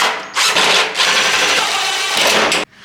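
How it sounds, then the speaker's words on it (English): A power driver sends sheet metal screws into the patched fender of a 1967 Chevrolet C10 pickup, whirring loud and close in two or three sustained bursts with a short break between them. "I think I'm gonna get some sheet metal screws and put some screws in this thing."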